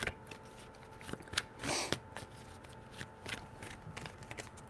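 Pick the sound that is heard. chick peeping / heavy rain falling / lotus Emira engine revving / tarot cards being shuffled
tarot cards being shuffled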